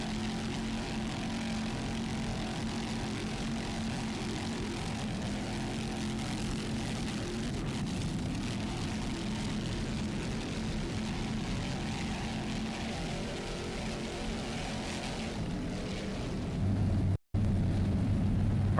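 Roaring engines of a 35-foot Fountain racing powerboat with Mercury power rated at 1,000 horsepower, a loud, steady drone holding throughout, with a brief dropout near the end.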